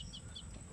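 A large rooster gives a brief, faint cluck, a couple of short throaty notes heard close by in a farmyard.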